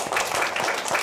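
Schoolchildren in a classroom clap together in a quick, loud burst of applause, steady broadband patter with a few voices mixed in.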